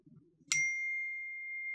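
A single bright phone message notification ding with a long, steady ringing tail that slowly fades, following a brief stretch of low, murmured voice.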